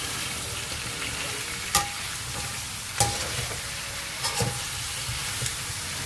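Cucumber and pork belly stir-fried in a wok, with a continuous loud sizzle and a few distinct scraping clanks as the spatula tosses the ingredients; no voices.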